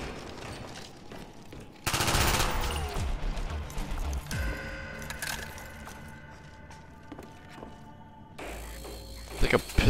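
A full-auto machine pistol fires in Call of Duty Black Ops, with loud bursts of rapid shots, a ringing mechanical tail and more gunfire near the end amid the game's noise.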